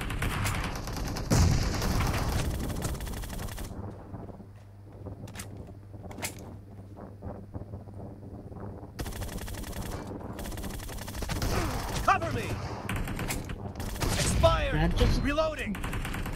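Gunfire from PUBG Mobile, with bursts of shots and bright impacts clustered near the start and end and a quieter stretch between, heard under game sounds and talk.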